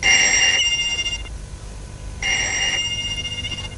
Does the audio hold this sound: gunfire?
no